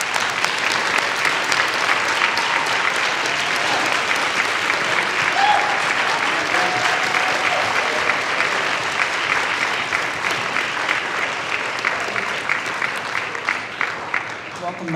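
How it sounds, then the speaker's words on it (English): An audience at a military signing day applauds in a dense, sustained wash of clapping that holds steady and loud for the whole stretch, filling the room. "Let's give them a round of applause."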